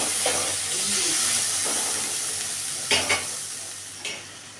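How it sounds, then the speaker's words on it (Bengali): Potatoes fry with salt and turmeric in a pan, giving a continuous bright sizzle with occasional stirring scrapes and clinks standing out near the end. "তারপরে লবণ হলুদ দিয়ে খানিকটা ভেজে নেব।"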